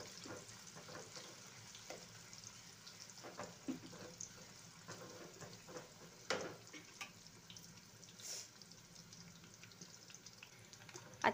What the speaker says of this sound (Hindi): अच्छे से प्याज तल लेते हैं अच्छे गहरे तेल में